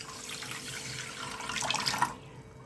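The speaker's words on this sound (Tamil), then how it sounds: "இது கூடயே தண்ணி சேர்த்துக்கோங்க." Water runs steadily into sugar in a kadai while syrup is made for malpua, a splashing pour lasting a couple of seconds before it stops abruptly.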